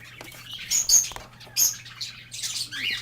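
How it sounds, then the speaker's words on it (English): Two pet lovebirds in a cage chirp and squawk in short, bright bursts, several calls scattered across a few seconds, close and clear over a faint steady hum. "in here I have my 2 lovebirds that had 4 eggs"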